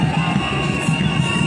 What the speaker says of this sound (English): Jubilant crowd, supporters of the government, all other Liberian citizens are all here.